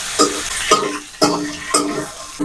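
Cumin spices for jeera rice fry in a pan with curry leaves and mint, a steady sizzle broken by four or five scraping stirs at an even rhythm, close and moderately loud with no voices.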